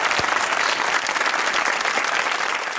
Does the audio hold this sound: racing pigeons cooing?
no